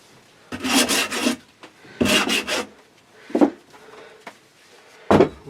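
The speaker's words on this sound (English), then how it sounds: "Sanding block." Rough rasping strokes of a sanding block rubbing a sawn wooden guitar body mould, several bursts of back-and-forth scrubbing with short pauses between, close and fairly loud.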